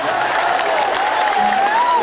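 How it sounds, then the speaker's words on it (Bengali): Steady audience applause and crowd noise fill the whole stretch at a fairly even level, with a faint tonal line running through the clapping. "অঞ্জনার জন্য জোরে একটি হাততালি।"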